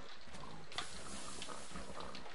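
A pig grunts in a survival-style video game, with quiet snorting grunts scattered over low background noise.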